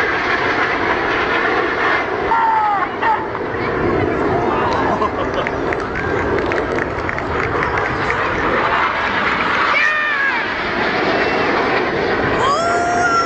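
Red Arrows jets sweep past at an air display in Bournemouth, a broad continuous roar that swells and shifts in pitch, mixed with crowd noise and a commentator talking over it.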